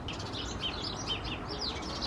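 A bird calls agitatedly from a garden hedge near freshly filled feeders in Scotland, a string of sharp, repeated chirps at moderate distance over steady outdoor background noise.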